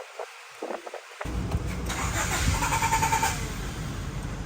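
A Honda CRX HF engine cranks after being jump-started from a portable jump box, a few quiet clicks giving way to several seconds of steady, rapid close-up cranking.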